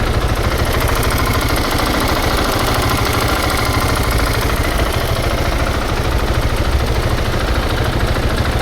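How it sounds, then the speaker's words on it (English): A Husqvarna 701 Supermoto engine idling close by, loud and steady with a rough, rattly, knocking chug that never changes pitch. "It's at idle, it sounds like a tractor now."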